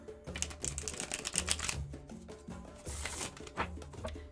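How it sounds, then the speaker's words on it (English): A deck of tarot cards is shuffled by hand, giving quick, crisp clicking and riffling bursts in an uneven rhythm, close and fairly quiet. "I'm going to give these a shuffle to wake them up."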